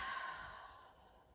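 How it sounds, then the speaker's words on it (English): One long, slow, deep breath out, close and soft, fading gradually as it ends, alone in quiet surroundings. "Breathe out, let go."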